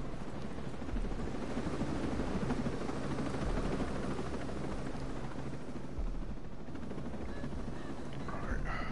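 A helicopter in Ghost Recon Breakpoint gives a steady rotor rumble and whir that stays constant throughout at moderate volume, with faint game effects over it.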